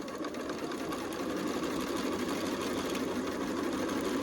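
A sewing machine stitches blanket seams in a steady, close, fast mechanical whir that runs without a break and has no talk over it.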